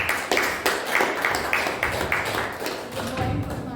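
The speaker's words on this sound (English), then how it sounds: "Give her a round of applause." Scattered hand claps from a small audience at a Toastmasters club meeting, uneven taps repeating through the moment at moderate loudness with no voices over them.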